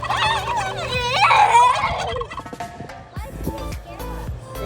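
Turkeys gobble loudly on a farm in a dense chorus of overlapping, warbling calls that fades to scattered gobbles, with a little background chatter.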